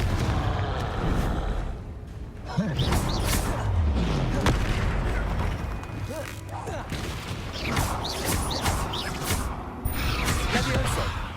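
Confringo fire blasts in the video game Hogwarts Legacy, repeated booming bursts amid a loud, busy mix of game effects, with a player's voice shouting over the action.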